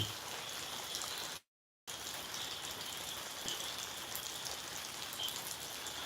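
Heavy rain falls steadily, a dense, even hiss of drops on surfaces close by, continuous apart from one brief dropout.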